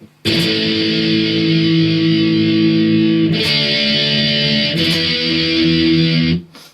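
A distorted electric guitar plays a sustained, crunchy riff from a song's bridge with a few chord changes, loud and close, no voices.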